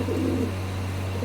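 Pigeons cooing in a racing pigeon loft, a soft low murmur of coos over a steady electrical hum and background hiss, close and continuous for a brief moment.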